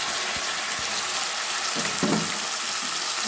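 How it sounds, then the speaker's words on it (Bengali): A ground paste of ginger, garlic, onion and green chilli hisses in hot mustard oil in a kadai. The sizzle is dense and continuous, with a few soft knocks and a brief stir partway through. "এবার বাটা মশলাটা আমি দিয়ে দিলাম"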